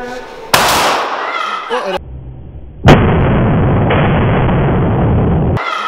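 Accidental Kalashnikov rifle shots at an outdoor range in Lithuania: two loud sharp bursts, the second followed by a long sustained roar of noise, close to the microphone.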